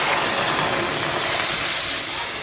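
Water poured into a hot kadai sizzles and steams in a steady, loud, broadband hiss that holds evenly throughout, close up in a home kitchen while sidol is cooked.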